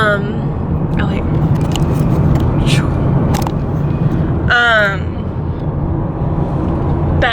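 A car drives along a mountain road at around 4,000 feet, its low, steady road rumble filling the cabin from start to end while people talk over it.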